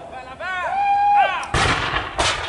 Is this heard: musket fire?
yes